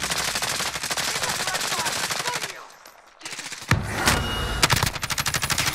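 Rapid automatic gunfire fills a video game firefight, dense bursts of shots crackling almost continuously, breaking off briefly before resuming with louder single reports and more rattling fire.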